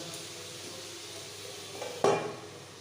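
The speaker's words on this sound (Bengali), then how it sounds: "এটা আমি কিছুক্ষণ একটু চাপা দিয়ে সিম আঁচে ভাজা হতে দেব" Food frying gently in a covered pan on low heat, a quiet steady sizzle with a sharper clink of the lid or utensil near the end.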